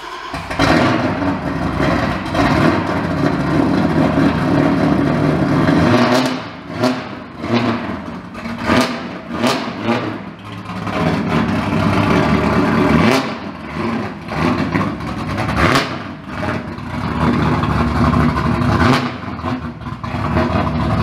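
A car engine revs loudly as the car pulls into a garage beneath a newly built loft, with repeated surges and dips in engine sound that stay close and continuous throughout.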